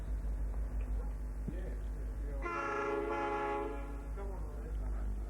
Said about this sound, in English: These two G-class locos are hauling the Geelong cement tanks.